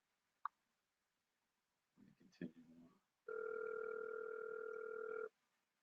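Telephone ringing with no answer, a loud steady two-tone ring lasting about two seconds after some clicks and brief handling sounds, with nobody picking up.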